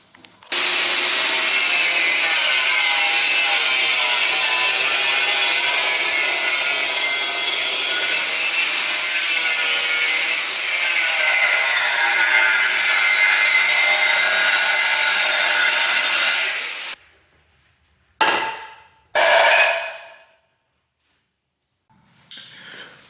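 A power tool saws through a chunk of an engine mount on a K24-swapped BMW E30, a steady loud grinding cut running about seventeen seconds before stopping, followed by a couple of short bursts and quiet.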